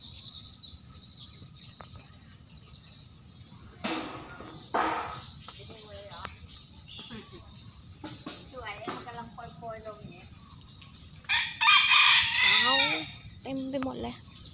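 Chickens at a Thai temple grounds, with a rooster's crow breaking out loudly near the end over a steady insect drone, along with scattered clucks and people talking nearby.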